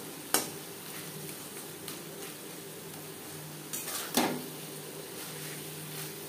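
Katla fish oil is stirred with onions and tomatoes in a pan over the stove, a soft continuous sizzle broken by a few sharp utensil scrapes and clinks against the pan.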